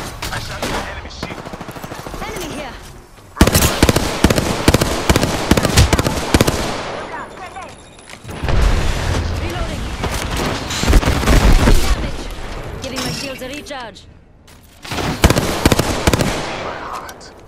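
Video game gunfire, with heavy bursts of shots and booming impacts arriving in loud dense waves separated by calmer stretches that carry voices.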